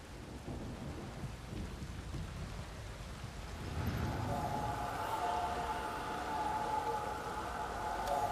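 Steady rain pours down in the video game The Witcher 3, with a low rumble of thunder, and a faint higher tone rises over the downpour in the second half.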